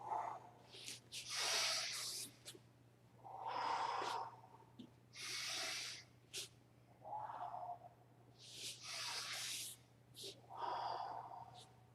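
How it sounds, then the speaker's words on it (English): Rhythmic heavy breaths in and out during an exercise class, about eight audible huffs at a steady pace, close and breathy over a low constant hum with no talking. "Step through, inhale, exhale. Inhale, exhale."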